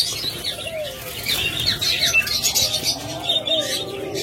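Caged budgerigars and doves for sale, a nearby mix of chirps, twitters and a brief flutter of wings, with a voice speaking faintly underneath.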